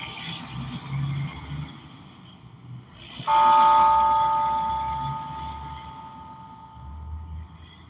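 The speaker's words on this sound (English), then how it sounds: "Now you get to hear the bells." A courthouse clock bell rings outdoors downtown, with a single loud struck tone that rings on and slowly fades over several seconds above a low traffic rumble.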